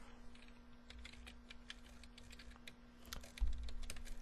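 Light clicking keystrokes on a computer keyboard while entering Python code, a quiet irregular patter of taps over a low steady hum, with a slightly louder cluster near the end and no talking.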